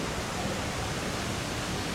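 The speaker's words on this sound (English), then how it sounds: "The gorgeous waterfall to the back of the hotel." A waterfall behind the Wilderness Lodge hotel at Walt Disney World pours in a steady, even rush of falling water, moderately loud and unbroken, with no talk over it.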